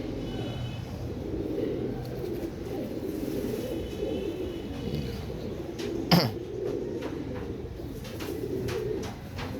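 Dub Wala pigeons coo low and steady inside a coop, a soft continuous murmur of several birds with one sharp brief knock partway through.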